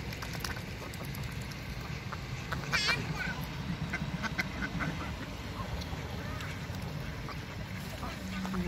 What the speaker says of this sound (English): There's a demon duck, Marcus.